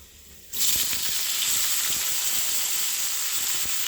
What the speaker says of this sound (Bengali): এবার আমি শাকটা ঢেলে দেবো।